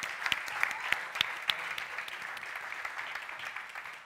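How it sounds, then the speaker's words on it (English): An audience applauds a FameLab science-communication contestant at an international semi-final, dense steady clapping from a large crowd with a few sharper claps standing out, lasting throughout without speech. "go viral with your applause, please, for our Malaysian champion, Abdi Manisya Hu"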